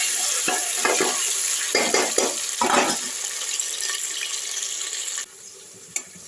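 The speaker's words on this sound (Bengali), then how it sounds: "গরম তেলের মধ্যে একটু চিনি দিলাম, তারপরে আমি পেঁয়াজ, টমেটো, ক্যাপসিকামটা ভাজার জন্য দিয়ে দিলাম" Onion, tomato and capsicum fry in hot oil with a little sugar, a loud, steady sizzle broken by stirring scrapes, then quieting abruptly to a faint simmer near the end.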